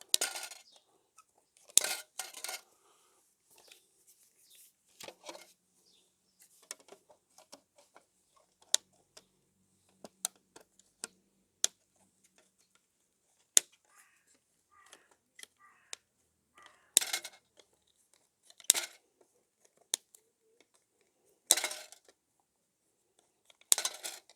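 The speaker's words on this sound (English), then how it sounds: "So just cut some sections of lead into your lead pan." Sections of lead sheet cut with snips and dropped into a metal lead pan, a sparse series of sharp metallic clinks and snips with quiet gaps between, close and fairly faint.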